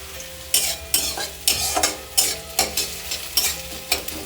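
Chopped ginger and onions stirred in a hot frying pan, a spatula scraping in regular strokes about every half second over a constant sizzle, close and fairly loud.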